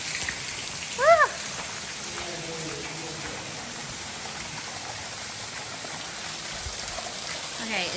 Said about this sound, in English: Okay, it totally is raining.